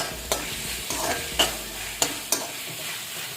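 Grated coconut and coriander leaves are stirred into tomato chutney in a hot pan: a soft, steady sizzle broken by a few sharp scraping strokes of the spoon, close and clear with no voices.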